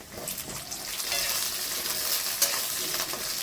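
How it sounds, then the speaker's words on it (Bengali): Chopped onions sizzle in hot oil with whole spices for chili chicken, a steady close frying hiss with light stirring and one brief clink, with no talking. "পেঁয়াজগুলো কুচি করে রেখেছিলাম সেগুলো দিচ্ছি।"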